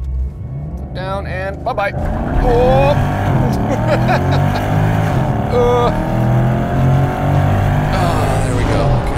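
Naturally aspirated V8 of a Porsche Panamera with all-wheel drive pulls hard from a launch, a loud sustained engine roar rising through gears, with someone talking briefly over it.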